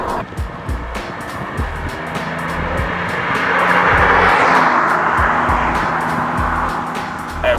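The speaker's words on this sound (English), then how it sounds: "then like the engine note kicks in, all that torque swell sort of kicks in" A Ford Mondeo ST220 accelerates under kickdown, its V6 engine note swelling from a steady drone into a louder, rising roar that peaks midway and then eases, heard from inside the car with no talk.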